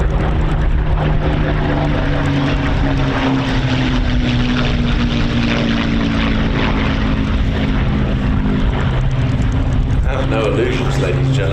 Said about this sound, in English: Singleton flying low, the 2 pairs flying an aerobatic routine over the top.